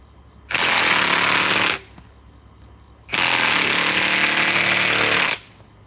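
A DeWalt power tool driving into a stuck log runs in two loud, close bursts, a short one and then a longer one, each a harsh, steady whirring roar with a brief pause between.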